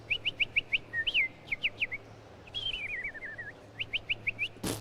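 A person whistles an imitation of bird song, with quick repeated chirping notes, a long warbling trill in the middle and more chirps at the end, clear and close with no talking.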